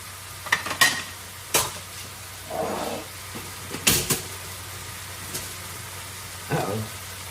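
Vegetables cooking down in a pan, heard as a low sizzle under several sharp clanks and scrapes of a utensil stirring against the pan, close and intermittent, with no voice.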